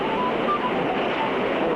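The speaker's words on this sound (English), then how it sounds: "Sounds like open water rushing over huge boulders." Open river water rushing over huge boulders ahead of a waterfall roars as a steady, loud, broadband wash with no breaks, heard from an ice boat speeding downstream in an animated cartoon.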